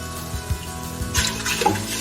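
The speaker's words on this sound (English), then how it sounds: "Need about 6 cups of water in here" Water poured into a soup pot holding cauliflower, with a few splashy pouring bursts and drips that thicken into a steadier stream toward the end.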